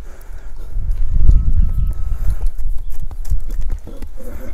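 Horse walking on ground, hooves clip-clopping in a loose, uneven rhythm close by, with some faint background noise and no clear talking.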